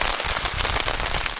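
Rain patters steadily onto a campsite in Algonquin, a dense, close, even drumming of drops.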